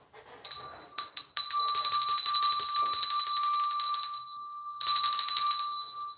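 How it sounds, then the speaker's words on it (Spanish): Hand bell rung at home to call someone down to eat, bright metallic clanging in a few quick taps then a long sustained rapid ringing, a brief pause, and another burst, close and loud. "Le estamos tocando la campana a Lupita para que ya baje."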